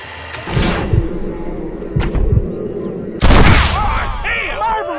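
Gunshots in a Red Dead Redemption cutscene: a few sharp cracks spaced apart, then a loud booming shot near the end, with faint voices and ambient noise in between.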